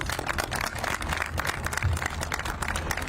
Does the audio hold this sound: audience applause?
yes